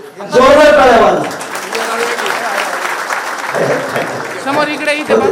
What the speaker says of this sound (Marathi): समितीचा जोरदार टाळ्या वाजवा